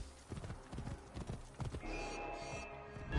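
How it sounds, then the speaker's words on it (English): A horse's hooves clip-clop in an irregular series of close, crisp knocks, followed by a brief whinny and rising background commotion, with no clear speech. "This must be Mered's horse."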